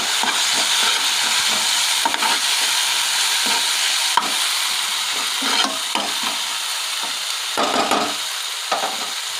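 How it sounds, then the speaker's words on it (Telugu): Salt, chili powder and turmeric stirred into a frying millet noodle mixture in a pan, with a steady close sizzle and repeated scraping strokes of a spoon, no talking. "ఉప్పు, కారం, పసుపు, ఇప్పుడు మనం ఒకసారి వీటిని మిక్స్ చేసుకుందాం"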